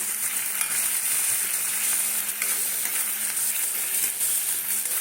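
Ginger and garlic sizzle steadily in hot oil in a wok while being stirred, a continuous close frying hiss with faint scraping throughout and no talking.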